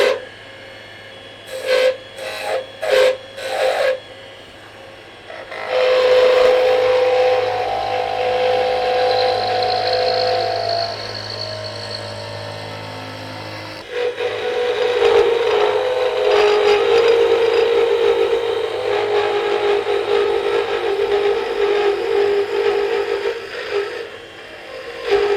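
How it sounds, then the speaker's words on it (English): Woodturning lathe peeling cuts on a wooden magic wand: a few short rubbing bursts, then long, loud rasping, hissing cuts as the tool peels wood from the spinning blank, pausing briefly midway before resuming. "We're going to do a couple of peeling cuts right here."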